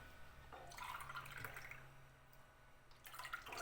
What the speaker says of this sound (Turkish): 2 3 su bardağı süt koydum.